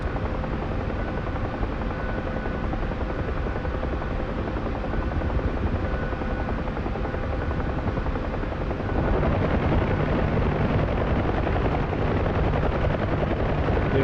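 A helicopter flies with its doors open in the DCS flight simulator over the Falklands, a loud, constant roar of rotor and wind that swells slightly partway through, with no talking.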